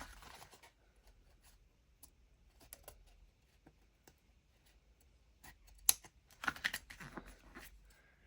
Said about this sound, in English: snip off the end.